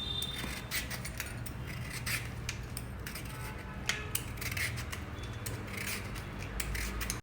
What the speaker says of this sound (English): Just cut it into pieces and then remove the seeds completely